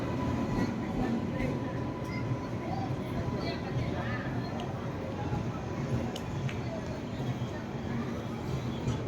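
A train pulled by a WAP7 electric locomotive rolls along with a steady rumbling drone and faint rail clatter, heard from on board, with people talking in the background.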